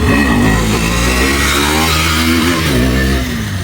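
Yamaha R15 V4 motorcycle fitted with a very loud aftermarket exhaust, revving hard and holding a raspy, high-pitched drone right at close range, steady throughout with slight rises and falls and no talking.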